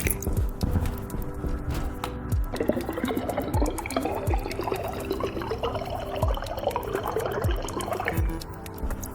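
Water rushing and gurgling through pipes in the space-survival game Stationeers on a Moon base, a continuous loud flow with splashy churning and repeated low thumps, no speech.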